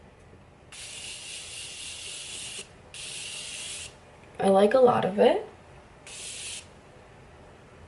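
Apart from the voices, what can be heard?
spraying Morphe setting spray on the face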